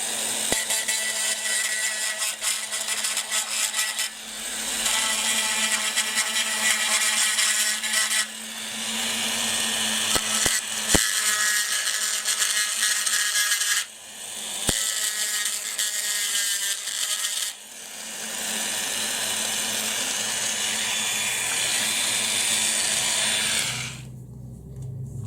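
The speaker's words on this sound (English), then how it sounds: "I'm just basically going to use the Dremel here and just run it over those melted plastic heads" A Dremel rotary tool grinds melted plastic heads off a Hot Wheels Elite diecast model car, a loud, steady, high-pitched whine running about 25 seconds with a few brief dips and pauses, with no talking.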